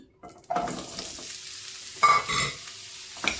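Radish sautéing in a couple of spoons of oil in a pan on high flame for Andhra-style radish chutney, with short bursts of sizzling and scraping stirs separated by brief quieter gaps.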